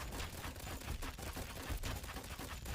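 Rapid, dense gunfire in a video game as a giant Lego titan is shot, continuous loud bursts of shots running throughout with no pauses.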